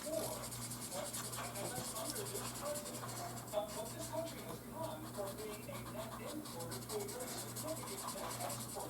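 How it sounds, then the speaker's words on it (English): Brown Diamond Press alcohol markers scrubbing across scrap paper while a figure is colored in, a continuous close, soft scratchy rubbing with quick back-and-forth strokes at a low, even level and no voices. "I'm going to color him in these diamond press markers. These are the alcohol markers."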